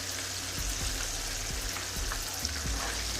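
Shrimp fry in hot oil for a crispy golden batch, giving a steady, dense sizzle and crackle that runs throughout, with a few soft low knocks and no talking.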